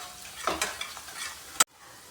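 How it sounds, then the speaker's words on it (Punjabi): Galgal citrus pickle pieces being stirred with white salt and garam masala, a short run of scraping, rustling mixing strokes ending in one sharp clack, then near silence. "ਇਹਨਾਂ ਨੂੰ ਚੰਗੀ ਤਰ੍ਹਾਂ ਮਿਕਸ ਕਰ ਲਾਂਗੇ"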